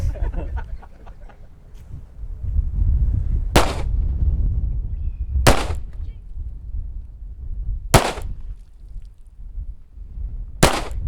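Four loud, sharp gunshots from a firearm firing expensive armor-piercing rounds at a shooting class, spaced a couple of seconds apart over low background rumble and murmur.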